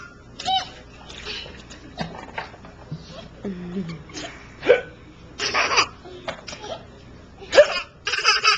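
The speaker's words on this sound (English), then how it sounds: "do the hiccups" A young girl hiccups on request, a run of short, abrupt gulping hiccups spread across the clip, mixed with giggling and bits of babbling, close to the microphone.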